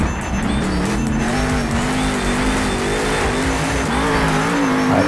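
A monster truck in Monster Jam Steel Titans roars close with a loud, sustained engine drone and squealing tires through a freestyle run.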